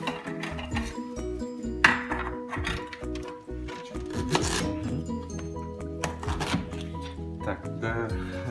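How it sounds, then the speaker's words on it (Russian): A knife chops ginger and lemons on a cutting board for a mincer, a run of quick, close, irregular thuds and taps with short pauses, continuing steadily throughout. "нарезаем под мясорубку эти продукты"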